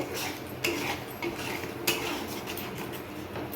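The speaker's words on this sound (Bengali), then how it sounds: "এখানে আমার মশলাটা কষানো হচ্ছে" Spice masala being sautéed in a pan for a Sunday home-cooked chicken dish, heard as steady low frying noise broken by a few clinks and scrapes of a utensil against the pan.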